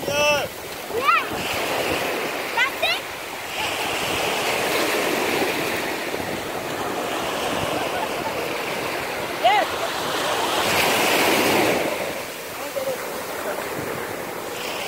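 Ocean surf washing onto a beach, a steady broadband roar with swells building and easing, heard alongside wind buffeting the microphone and bursts of voices.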